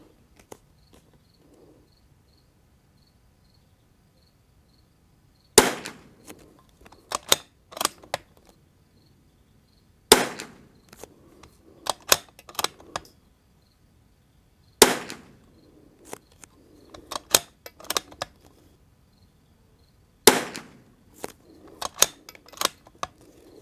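Rimfire target rifle shots from a Zermatt RimX or Winchester 52 firing Eley Club ammunition at a range, sharp cracks falling in several clusters of a few shots each with quiet gaps between, close and loud.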